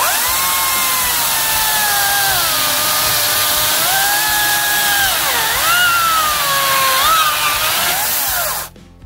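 A Makita cordless chainsaw motor whines steadily close by, pitch dipping and rising as it bites into wood for several seconds before cutting off abruptly.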